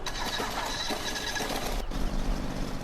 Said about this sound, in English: You have the little engine right there, turning the auger